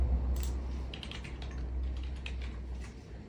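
Quick, light keystrokes clatter on a computer keyboard in a short irregular run, faint and close against a low background hum.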